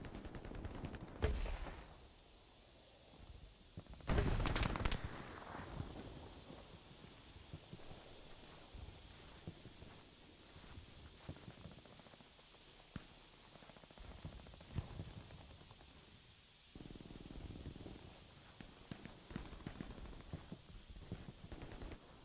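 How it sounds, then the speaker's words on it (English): LMG machine gun fire in the World War II shooter Hell Let Loose: two loud bursts early on, then long stretches of rapid distant crackling automatic fire over windy battlefield noise, with no talking. "Now there's an LMG."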